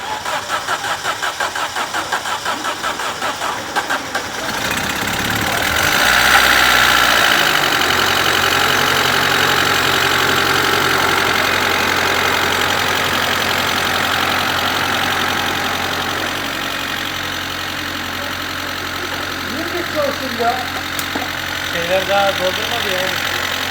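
An Opel Corsa 1.4 engine starts and settles into a steady idle with a light ticking rattle from the lifters, a brief rev near the start, and faint voices in the background.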